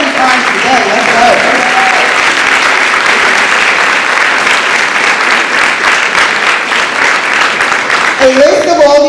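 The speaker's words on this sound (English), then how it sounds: "let's acknowledge them with a round of applause" Audience applause at a high school Educator of the Year ceremony honoring past recipients, a loud, steady wash of clapping filling the hall for about nine seconds, with a voice speaking over it at the start and again at the end.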